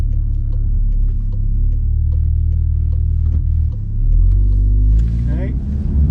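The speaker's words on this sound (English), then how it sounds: "The manual shifts seem crisper." A VW with a COBB-tuned 7-speed DSG running in manual mode, a loud low engine drone and road rumble with a quick gear change near the end, under a speaking voice.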